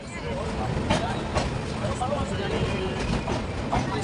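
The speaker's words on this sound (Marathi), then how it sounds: "आपण पोहोचलोय शहीद कप्तान तुषार महाजन स्टेशनला ज्याचं की आधीचं नाव होतं उधमपूर रेल्वे स्टेशन" A train at Shaheed Captain Tushar Mahajan (Udhampur) railway station sends out a steady, rumbling rail drone with faint clatter throughout, while people talk over it.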